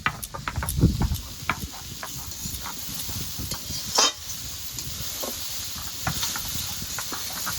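Cabbage frying in a pan without turmeric, with a steady soft sizzle and scattered stirring scrapes, a louder clatter near the start and another around the middle, and no voices.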